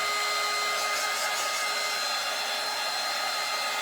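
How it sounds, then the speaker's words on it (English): A handheld heat tool blows hot air in a loud, unbroken roar up close, setting freshly dry-brushed paint ink on a craft piece. "Let's hit this right quick with just a tad bit of heat just to make sure that ink is set in there."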